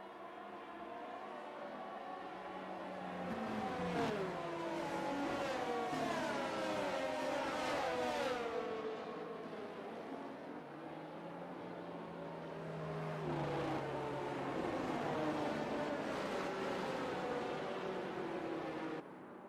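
F1 race cars in F1 22 trail the safety car around the Abu Dhabi circuit. Several engines whine and rise and fall in pitch through repeated gear shifts as the cars pass, with a steady mechanical drone underneath.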